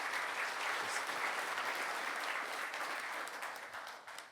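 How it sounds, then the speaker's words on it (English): An audience at a space resources conference in Luxembourg applauding a speaker, a thick continuous round of clapping from many hands that stays fairly quiet and fades slightly at the end. "One more round of applause."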